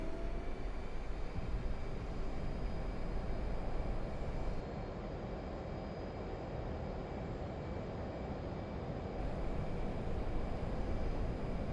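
An F/A-18 Hornet's jet engines roar in afterburner during a takeoff roll in DCS, a steady, loud, broadband rumble and whine that holds continuously with a slight dip midway.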